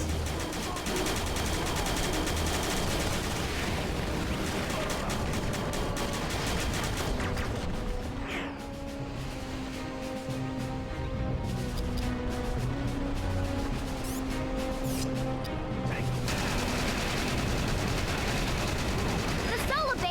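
Continuous gunfire and rapid machine-gun bursts from the Battalion Wars video game, as the player shoots down enemy fighter aircraft, with dense layered battle noise running loud and unbroken throughout.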